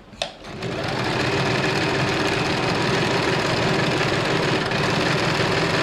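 An electric sewing machine stitches a seam on a simple blouse, starting with a short thump and then settling into a fast, steady mechanical whir. The whir runs close and continuous for several seconds.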